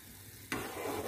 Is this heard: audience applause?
no